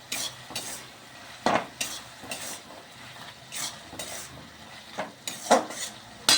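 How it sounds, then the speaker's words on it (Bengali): Bottle gourd being stirred in a pan after sugar goes in, with a soft sizzle under a series of uneven spoon scrapes and clinks against the metal, close and fairly clear. "এবারে একটু নেড়ে দিচ্ছি।"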